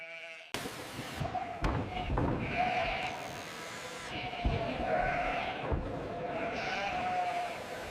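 Sheep bleat repeatedly during wool shearing at a farm, several loud cries near and at middle distance over a steady background of machinery and shuffling.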